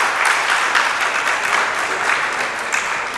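An audience at a family discourse event in Bhilai claps, dense steady applause filling the hall from start to finish, loud and close, without voices over it.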